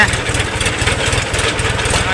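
A tractor engine labours steadily while climbing an uphill road toward a village, a loud, close, continuous low throb with a rapid pulsing beat and no clear speech over it.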